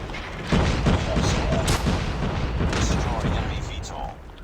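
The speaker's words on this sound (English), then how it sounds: "someone's using a VTOL" VTOL aircraft gunfire rains down in a first-person shooter match: a dense, continuous barrage of booming, crackling blasts that starts abruptly and rumbles on for several seconds before tapering off.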